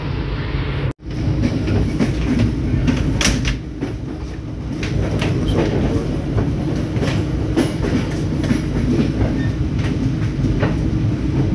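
The Mutiara Timur passenger train runs on rails in Indonesia with a loud, continuous rumble, rattling carriages and faint clickety-clack beats, heard close from inside with no voices.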